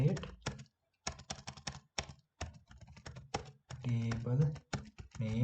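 Bursts of clattering keystrokes on a computer keyboard come in quick runs separated by short pauses, close and crisp, with someone speaking softly between and over the typing.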